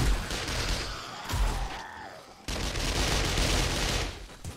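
Gunfire in the zombie survival game 7 Days to Die comes as dense, continuous bursts of rapid shots, loud and close, with a brief drop in intensity partway through before the firing resumes.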